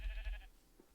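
A single short sheep bleat in Minecraft, soft and close, fading quickly into quiet.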